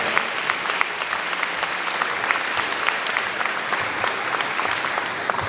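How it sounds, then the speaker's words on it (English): Audience applause honoring a group of county Teachers of the Year at a school recognition event, steady dense clapping from a sizable crowd that carries evenly through the whole stretch without any talk. "another round of applause for all of our 2024 Teachers of the Year"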